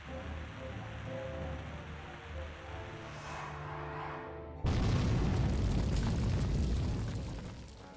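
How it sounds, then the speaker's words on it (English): A bomb detonates in Dragon Quest III: after a quiet stretch of low tones, a sudden loud blast hits and rumbles on for several seconds before slowly fading. "Anyway, that's a bomb."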